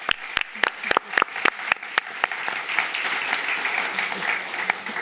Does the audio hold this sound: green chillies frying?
no